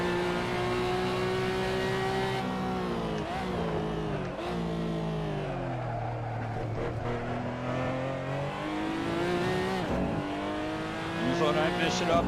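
Race car engine on the final lap of a race, loud and continuous, with steady revving that rises and falls through gear changes and braking, heard beneath occasional talk.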